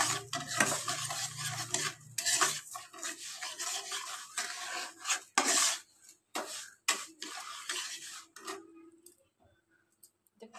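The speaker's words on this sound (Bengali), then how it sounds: "এবার এটাকে একটু ভালো করে ঘিয়ের সাথে চিনিটাকে নাড়বো" Sugar stirred into ghee in a pan while making semolina halwa: continuous close scraping and rubbing of a spoon against metal with clinks, fading into sparse, quieter strokes toward the end.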